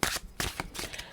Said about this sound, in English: You hear that shuffle? That was a bad shuffle, but did you hear it?